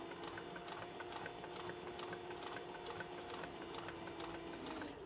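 A Cobra sewing machine top stitches leather, its needle hammering in a fast, even, continuous rhythm close by with a steady mechanical whir underneath.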